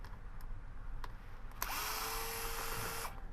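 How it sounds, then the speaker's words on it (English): A T10 driver unscrews small screws on a Tesla Model 3/Y seat belt, giving a steady buzzing whir of about a second and a half after faint taps. It sounds close and alone, with no talk. "Just unscrew them."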